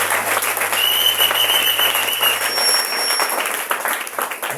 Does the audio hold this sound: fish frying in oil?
no